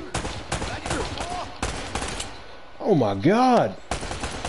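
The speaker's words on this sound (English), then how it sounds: "this asshole is shooting right at the barrel" Gunfire in Uncharted: Drake's Fortune, with sharp shots scattered through a short stretch while a player talks over them and exclaims near the end.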